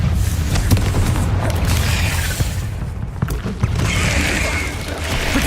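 A Confringo fire spell explodes in a Harry Potter-style action game: a deep, rumbling boom with a sustained broadband roar that holds steady and loud for several seconds, with no speech over it.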